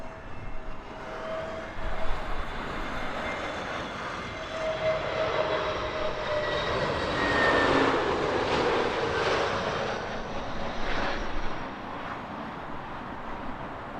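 TAP Air Portugal airliner in from Lisbon landing at Heathrow in a southerly crosswind, a jet engine roar swelling and fading past at moderate distance with a whining tone.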